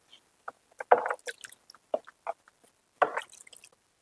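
Feet being washed with water in a basin during a pedicure, heard as scattered close splashes, drips and squishy sloshes in short irregular bursts, quiet between them.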